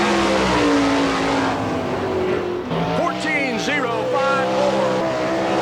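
A sprint car runs a lap at Barberville Speedway in Florida during an All Star Circuit of Champions race. Its engine snarls loud and close, swooping in pitch through the turns, while an announcer talks over it.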